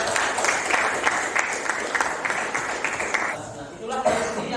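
A classroom of students claps in a steady, moderately loud burst for about three and a half seconds, then the clapping drops away, leaving a brief lull with a little murmuring and chuckling.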